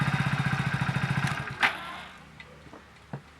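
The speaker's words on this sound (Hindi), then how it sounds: "हाँ, मोटरसाइकिल से।" A motorcycle engine idles and putters with a steady, rapid pulse that is close and fairly loud, then falls away after about a second, leaving a few scattered knocks and clicks.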